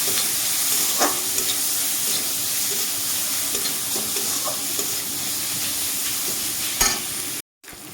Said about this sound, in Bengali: ভালোভাবে নাড়িয়ে করে একটু হালকা ভেজে নেবো পেঁয়াজটাকে